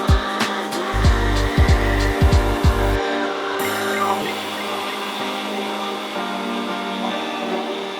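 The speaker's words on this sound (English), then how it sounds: "I'm just letting it finish blending the oil." An immersion blender whirs in a college culinary kitchen while oil is blended in, loud and steady with a few quick pitch drops early on, then settling into a quieter continuous hum.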